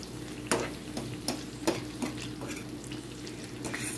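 Spanish sweet onions cooking in a pan with a little barbecue sauce, a continuous sizzle punctuated by regular scraping strokes of a utensil stirring them, close and steady, with no talking.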